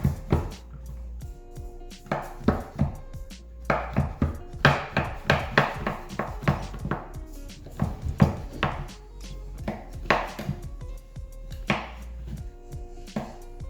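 A knife chops chocolate on a cutting board in a kitchen while ganache is being made, giving steady, close, sharp thuds in irregular quick runs with no talking.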